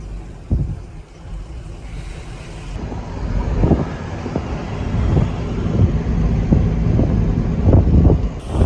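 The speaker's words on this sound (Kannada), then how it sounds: "ಸುತ್ತು ಈ ಥರ ಗಾಳಿ ಚೆನ್ನಾಗಿ ಬರ್ತೈತಿ ಇವತ್ತು" Strong wind buffets the microphone beside a highway bypass among hills and water, a steady low roar rising and gusting throughout, with soft thumps mixed in and no voices.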